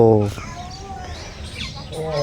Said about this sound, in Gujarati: અહીંયા મસ્ત પક્ષી આવશે ચરવા